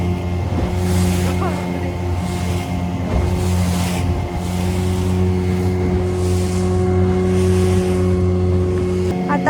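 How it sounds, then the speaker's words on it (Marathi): A motorboat engine drones steadily and loudly on a misty morning dolphin-watching trip at sea off Vengurla, the hull rising and falling over waves, with a voice talking over the constant hum. "बोट अशी वर खाली होते ना भीती वाटत आहे"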